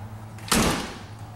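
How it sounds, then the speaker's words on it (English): The door of a 1951 Ford two-door sedan with a flathead V8 shuts once with a short, solid thud, close and alone. "Door shuts nice and solid as it should."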